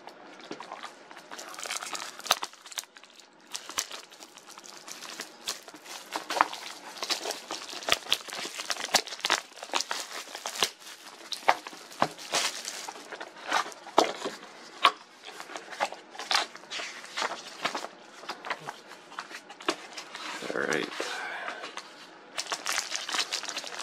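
Plastic wrapping crinkles and tears as a 2019-20 Upper Deck Series 1 hockey card hobby box is unwrapped, close and steady, with irregular crackling bursts throughout and no talk.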